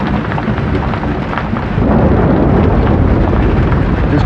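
A night thunderstorm heard from inside a canal boat: deep rolling rumbles and dense noise that swell louder partway through and keep going without a pause.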